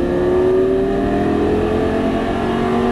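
A Lamborghini Gallardo on a race track holds a steady, loud engine note under throttle, a rising droning whine close to the listener with no talk over it.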